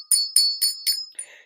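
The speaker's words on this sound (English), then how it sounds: "Ring that money bell." A bright cash-register-style money bell rings four quick times in a steady rhythm, then gives a fainter final chime, each strike sharp, clear and close, with no voices.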